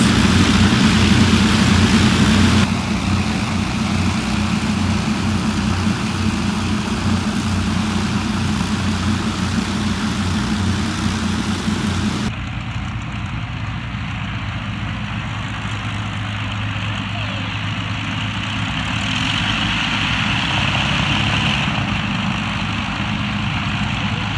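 Heavy piston engines of the WWII Lancaster bomber Just Jane drone loudly and steadily as they start up in rain, the sound shifting as one engine settles and another joins, with no voices.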